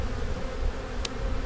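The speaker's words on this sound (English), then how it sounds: "this hive is just absolutely packed side to side with bees" Bees droning steadily inside a crowded hive packed frame to frame with brood, a low continuous buzz filling the short stretch with one brief higher hiss near the end.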